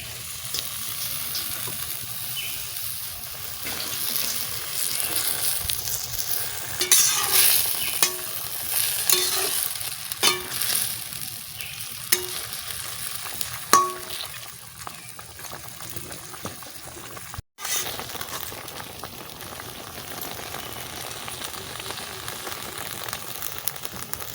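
Leafy greens picked from a home garden are stirred into a simmering curry in a pan, giving soft bubbling and sizzling with repeated scraping and stirring strokes over a steady low hiss; no one speaks.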